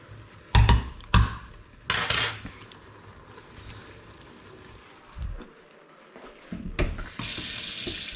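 Water from a kitchen tap splashes into a sink in a few loud bursts, with dish and cutlery clatter between them and a steadier stream near the end.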